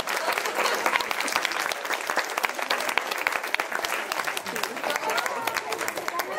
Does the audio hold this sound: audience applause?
yes